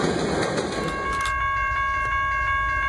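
A freight train passes with a GE Evolution Series (Gevo) locomotive in the lead, a steady rumble of rail cars with tonal squeal lines carrying on throughout, loud and close.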